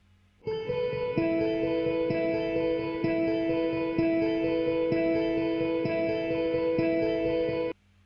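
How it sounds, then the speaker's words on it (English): A shimmer guitar patch with its shimmer turned down, run through drive, a compressor and an exciter, holds a sustained, chorused tone. Soft rhythmic pulses repeat about once a second for roughly seven seconds, then stop abruptly. "I've got the shimmer guitar, turned right down the shimmer elements of it, but added a bit of drive, and then I put that through a compressor and an exciter"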